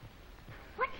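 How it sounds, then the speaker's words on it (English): A single short dog bark rings out near the end of an otherwise quiet second, faint and a little distant. "That's Johnny barking, ain't it?"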